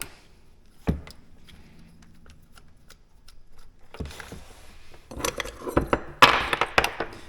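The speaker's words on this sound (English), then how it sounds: "let's just start taking screws out and see what we got" Screws being removed from an Arrma Typhon Grom RC car during differential access: scattered small metallic clicks, taps and light clinks of a tool and parts, faint at first and busier and louder toward the end.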